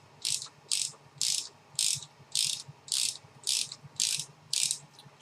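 A spark plug spanner ratchets around tight spark plugs with a long thread, giving a steady series of about ten crisp clicking bursts at an even rhythm, close up, with no talk.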